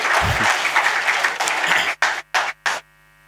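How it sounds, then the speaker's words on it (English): Audience clapping at a business summit curtain raiser in Mysuru, loud and continuous from a room of people, then breaking into short chopped bursts before cutting to silence. "Applause, everyone."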